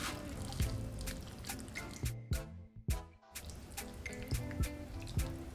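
Hot chicken broth is poured over ramen noodles, giving soft trickling and dripping liquid sounds. Light clinks and taps from the bowl come through close and fairly quiet.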